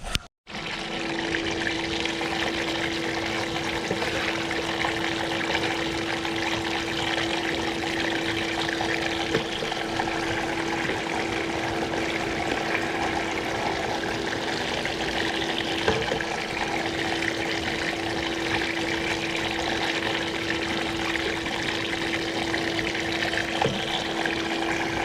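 Water steadily washing gold-bearing dirt over a miner's moss mat in a home sluice, a continuous close rushing flow with a faint steady hum underneath and no talk.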